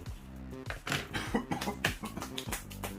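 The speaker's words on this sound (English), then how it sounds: "I'm gonna start coughing." A burst of repeated rough coughs from clutch dust in quick succession, close and fairly loud, with a few short pauses between fits.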